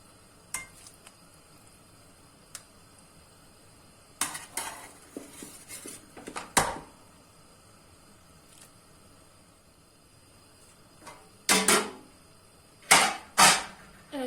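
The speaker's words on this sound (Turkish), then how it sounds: "köftemizi ilave ettikten sonra hafiften bir karıştıralım" Spinach meatballs are tipped into a pot and gently stirred, giving scattered clinks and scrapes of a utensil against metal, with bursts of clattering near the start and end and quieter pauses between.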